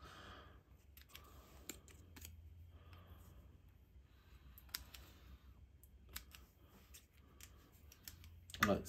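Scissors snip off loose thread ends after hand sewing on a papercraft project, giving a few faint, sparse clicks and snips in a quiet room, with a louder rustle at the end.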